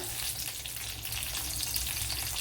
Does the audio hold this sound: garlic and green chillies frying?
yes